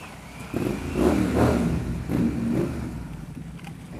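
A Triumph Scrambler motorcycle rides along, its engine rising and falling through a few throttle blips and revs close by, then settling to a lower steady run.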